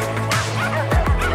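Dogs on a remote Baja backcountry trail give several sharp barks and yips in quick succession, loud and close, with the last two bursts coming close together near the end.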